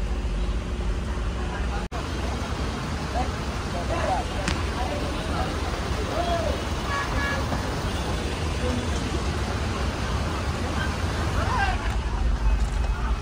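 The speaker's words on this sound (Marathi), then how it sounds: "तर आपण आता ट्रॅफिकमध्ये अडकलोय" A jammed road at Pathardi Phata in Nashik: a steady, dense rumble of engines and road noise with scattered car horns and background voices murmuring throughout.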